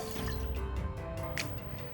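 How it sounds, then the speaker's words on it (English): A cup of water poured into a 12-inch wok over high heat while stir-frying clams, giving a close, steady liquid splash and sizzle through the short stretch with no talking. "On high heat, I'll be using a 12-inch wok for this recipe. Adding 1 cup of water."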